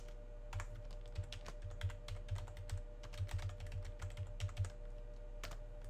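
A password is typed on a computer keyboard while Docker is set up on Proxmox: a steady run of close, crisp keystroke clicks in uneven bursts over a constant low electrical hum, with no talking.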